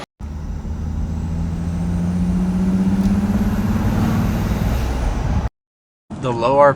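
Ford F150 engine fitted with an AFE Magnum Stage 2 dual-cone dry-filter intake drones low and steady, swelling slightly under load before cutting off abruptly; a voice follows briefly after a short silence.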